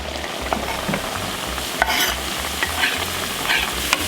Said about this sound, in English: Coming in for that sizzle, Crystal. Woo! Love that sizzle.